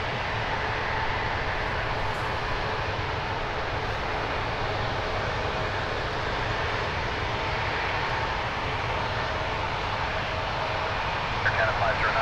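An Air Canada Airbus A220-300 leaving Toronto Pearson makes a steady, moderate jet engine rumble that continues throughout, with radio chatter from air traffic control over it.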